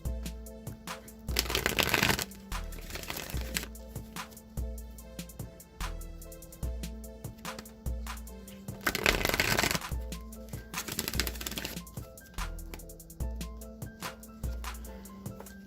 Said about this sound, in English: I'm going to shuffle the Wisdom of the Oracle deck a few times.